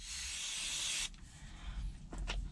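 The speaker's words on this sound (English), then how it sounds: "So what I'm going to do is spray it with some fluid film right now." Fluid Film spray hisses steadily from an aerosol can onto a Honda CRX rear disc brake conversion, a loud broadband spray for about a second before cutting off, followed by quiet shop noise and light handling sounds.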